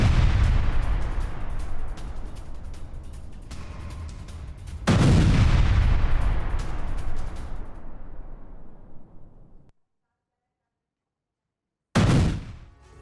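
Russian artillery strikes a Ukrainian command post in Kherson. Two heavy booms roll out with long rumbling tails, then a short silence before another blast cuts in.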